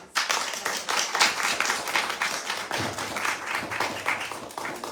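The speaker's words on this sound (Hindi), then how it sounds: "उन सबका स्वागत है, ताली बजाकर।" A seated audience at a religious celebration claps to welcome the hosts, with the applause starting abruptly and continuing as a full, even crowd clapping for the rest of the moment.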